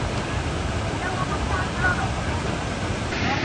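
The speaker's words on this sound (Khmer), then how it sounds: "នេះសំឡេងស្នូទឹកធ្លាក់" Roar of the Tatai waterfall in Koh Kong, a steady, loud broadband rush of falling water heard close up, unbroken and without speech for the whole stretch.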